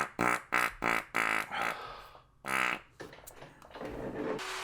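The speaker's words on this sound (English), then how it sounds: "why didn't you just edit the fart out?" A series of short, buzzing, close fart bursts comes in quick succession, followed by quieter, drawn-out rumbling noises.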